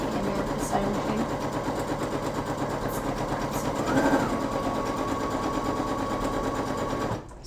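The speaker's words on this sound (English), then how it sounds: "Hopefully you can hear me with the sewing machine." A sewing machine stitching cotton runs steadily with a rapid mechanical stitching rattle, close and continuous for several seconds before stopping abruptly at the end.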